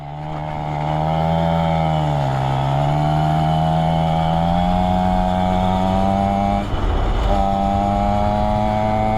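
A 1982 Suzuki FS50 moped's small engine held wide open while riding, a steady loud buzzing drone that rises and dips slightly in pitch, with a brief bumpy rattle partway through.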